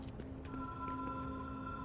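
An old telephone rings in the supernatural action video game Control, a steady electronic bell tone sustained over a low ambient hum, close and fairly loud.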